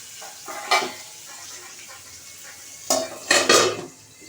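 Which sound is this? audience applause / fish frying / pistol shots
fish frying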